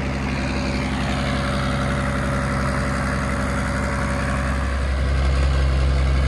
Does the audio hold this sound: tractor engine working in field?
yes